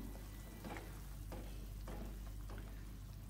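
Steady sizzling from a hot frying pan with a spatula scraping and stirring vegetables and seasoning in a few rhythmic passes, close and continuous, no talking.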